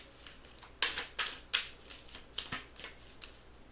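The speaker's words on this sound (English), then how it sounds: "let's get some advice cards here today for my pile number one" Tarot-style advice cards are handled and shuffled in a few quick, close papery riffles and slaps, fairly quiet, with no talking.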